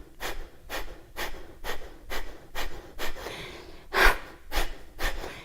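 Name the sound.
forceful exhalations during pranayama breathing exercise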